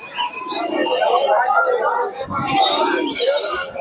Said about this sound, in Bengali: এত ভালো মানের কবুতর আজকে খাঁচায়